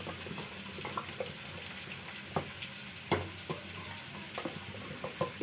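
Fenugreek and onion fry in a pot for Punjabi saag: a faint, steady sizzle with irregular spoon clicks and scrapes from stirring, and no speech.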